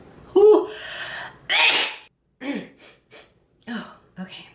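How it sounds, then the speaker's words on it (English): A single loud sneeze with a sharp intake of breath before it, followed by a few short vocal sounds and breaths. "I'm gonna sneeze"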